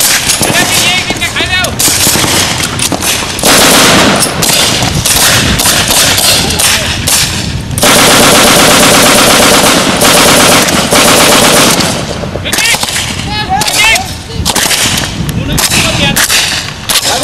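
Military firing drill at a Thai army unit combat-readiness inspection, with machine guns firing loud, close, sustained bursts of rapid automatic fire and a few short pauses between volleys, plus occasional voices.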